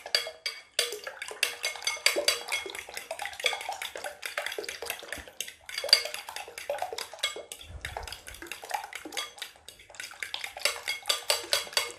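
Egg whites being whisked with a fork in a dish: quick, repeated light clicking and tapping strokes in a busy rhythm, close and fairly soft, with brief pauses.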